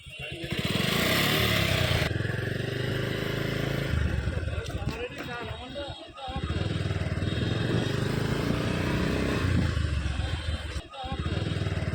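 A motorcycle engine hums steadily during a ride, mixed with rushing wind and a few brief dips in loudness.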